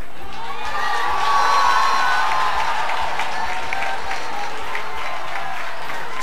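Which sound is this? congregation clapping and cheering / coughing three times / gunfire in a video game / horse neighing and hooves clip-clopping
congregation clapping and cheering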